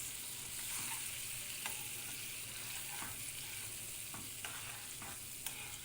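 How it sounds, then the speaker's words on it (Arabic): Beaten eggs are stirred into shakshuka in a pan, with a soft steady frying sizzle and occasional light scrapes and taps of the utensil, faint and close. "هبتدي انزل بالبيض بتاعي، اقلبه كويس"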